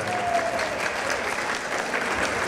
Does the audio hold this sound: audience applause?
yes